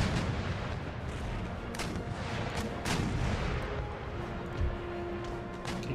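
Broadside cannon fire from sailing warships in an Empire: Total War naval battle, a dense continuous rumble of booming shots with sharp cracks overlapping steadily throughout, loud and close.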